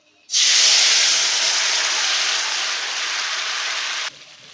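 Loud, steady sizzle as ingredients hit hot spiced oil for a tempering, bursting in abruptly and hissing evenly for about four seconds before cutting off, with no talk.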